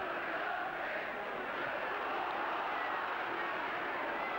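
A football crowd at a Liverpool versus Manchester United match reacts to a referee's decision with a broad, sustained roar that holds at a steady level the whole time, full and distant-sounding.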